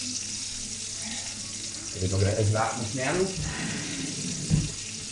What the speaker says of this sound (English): Right, so you see that all frying up now